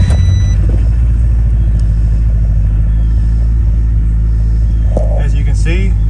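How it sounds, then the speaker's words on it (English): A Honda Civic with a blown head gasket and 339,000 miles runs close by, a loud, steady low engine rumble filling the whole stretch, with a few faint voice-like sounds near the end. "And now I'm gonna go start the car."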